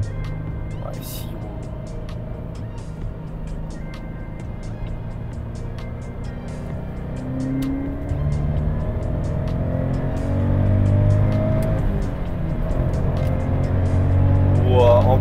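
A supercharged car accelerates hard in fourth gear, its engine note climbing steadily in pitch and growing louder toward the end, heard from inside the car with people talking over it.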